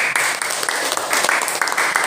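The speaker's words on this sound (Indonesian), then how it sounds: "Baik, tepuk tangan." A classroom of students claps together after a group presentation, a dense, lively round of applause that is close and continuous, with a faint voice underneath.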